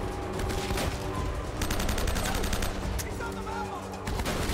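Loud, dense gunfire fills the video game Uncharted: Drake's Fortune, with rapid automatic bursts and shots that overlap without pause. The game's other sounds play underneath.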